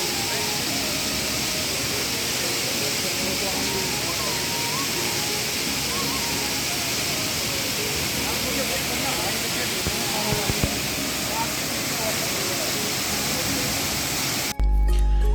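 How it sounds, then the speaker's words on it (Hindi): A waterfall beside the mountain road to Om Parvat in the Himalayas roars as a constant hissing rush of water, loud and unbroken until it cuts off abruptly near the end. "रास्ते में जाते हुए हमें एक झरना मिला।"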